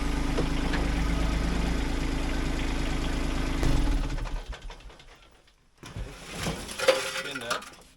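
A Kubota LX2610 compact tractor engine runs at a steady loud idle, then dies away and sputters back with uneven revving and rattles.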